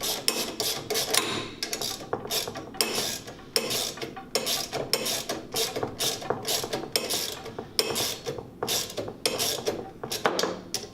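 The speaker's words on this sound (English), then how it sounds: "Grab our 10mm setup. And we'll get this all tightened up." A ratchet with a 10mm socket tightens bolts on a Chapin spreader, giving rapid bursts of sharp metallic clicks in repeated strokes with brief pauses, close and clear, with no talking.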